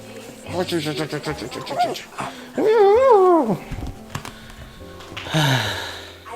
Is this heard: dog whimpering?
yes